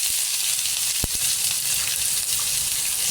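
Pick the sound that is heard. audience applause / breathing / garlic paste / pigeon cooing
garlic paste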